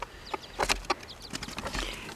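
Mother hen in a coop with her chicks, giving a quick run of sharp, agitated clucks and squawks, close and moderately loud, with no talking.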